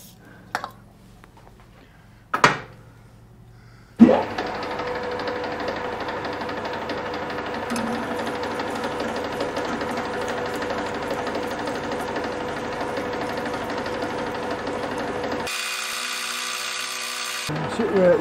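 A steady mechanical whir of an 11.5 mm drill in a lathe cutting through a steel nut runs continuously after a few sharp knocks, then changes to a higher, thinner whine near the end.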